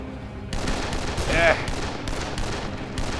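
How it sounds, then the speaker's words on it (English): Firearm gunfire in the zombie survival game Dead Island: several sharp, loud shots crack in an irregular burst over continuous game noise. "Shoot you in the leg."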